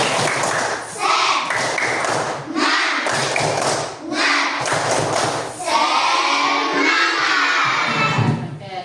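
Classroom of schoolchildren doing a rhythmic clapping chant, loud bursts of claps and thuds in a steady pattern mixed with children's shouting voices, close and lively.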